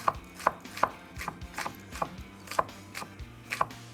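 A knife chops through a pepper on a cutting board while its insides are removed, about eight crisp, evenly spaced taps, close and clear with no talking.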